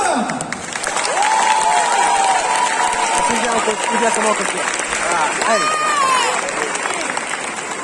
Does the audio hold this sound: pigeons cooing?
no